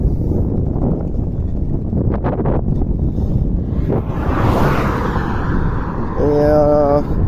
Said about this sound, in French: Plus on se rapproche du bord de la mer, plus le vent est fort.